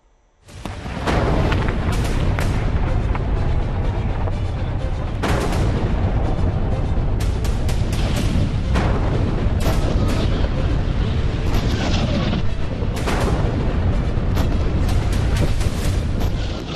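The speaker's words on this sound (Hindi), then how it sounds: "बम पर बम बरस रहे हैं।" Bombing and heavy artillery fire in the Gaza war: a continuous loud roar of blasts and booms with repeated sharp impacts layered throughout, no voices, sustained and dense for the whole stretch.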